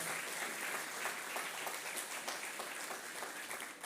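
A church congregation applauds during a Methodist service, a dense, continuous wash of clapping at a distance, fairly faint and steady throughout.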